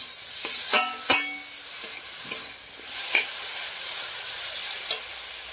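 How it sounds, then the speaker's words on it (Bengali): Spice paste for a Bengali okra and prawn curry is stirred and sautéed in a pan with a little water, giving soft sizzling with sharp scraping stir clicks at irregular intervals, close and fairly quiet. "এইভাবে হালকা জল দিয়ে মশলাটাকে আরেকটু ভালো করে কষে নিতে হবে"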